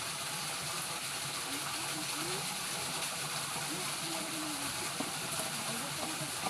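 Water from an easily reached waterfall and stream rushes in a constant close, full roar that stays even throughout, with no break.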